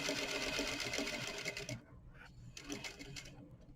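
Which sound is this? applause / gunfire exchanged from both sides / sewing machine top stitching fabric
sewing machine top stitching fabric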